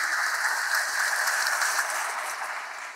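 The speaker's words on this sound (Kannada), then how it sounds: "ಹಾಗಾಗಿ ಜೋರಾದ ಒಂದು ಚಪ್ಪಾಳೆ ಜೋರಾಗಿ ಬರಲಿ." Sustained applause from an audience of about two hundred at a Rotary Club scholarship distribution ceremony for talented students, dense, steady and fairly loud, with no speech over it for the full stretch.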